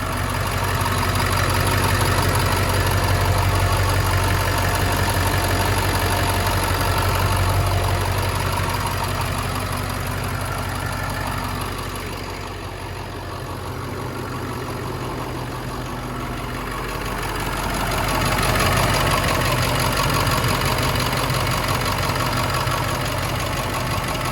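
A school bus's International 444E Power Stroke-style diesel engine idles steadily with a rough, knocking rumble, dipping briefly in loudness midway before returning.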